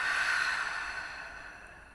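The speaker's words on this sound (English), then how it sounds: "and then breathing out." A person breathes out slowly and steadily during a guided breathing exercise, a soft airy exhale that starts fairly loud and fades gradually over two seconds, heard alone with no talking.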